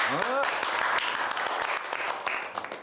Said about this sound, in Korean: 우리 권변에게 박수 한번 쳐주자고